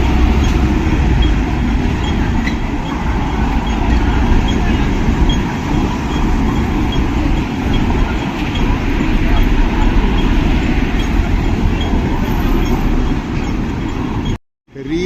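A Mong Kok metro train in Hong Kong produces a loud, continuous low rumble and roar, heavy and steady at close range for most of the stretch, then cutting out abruptly near the end.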